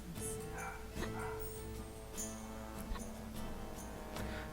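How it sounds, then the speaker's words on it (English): Dogs barking at home, a few scattered, fairly faint yips and barks in the background behind game music. "the dogs are loud."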